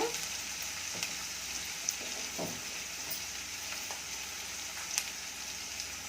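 Turmeric going into a sizzling lemon rice tempering, a continuous close frying hiss with a few soft stirring knocks and light crackles, no voices.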